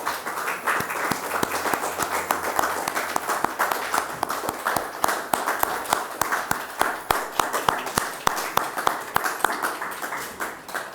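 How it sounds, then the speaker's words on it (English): An audience applauding Sylvia Hunt at her cooking relaunch event, sustained clapping from a room of people with individual sharp claps standing out, steady and lively for the whole stretch. "let us all give a huge round of applause to Sylvia Hunt"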